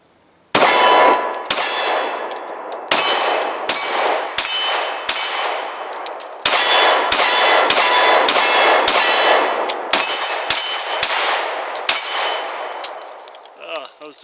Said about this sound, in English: Let's shoot this mag and see if I can not miss any this time.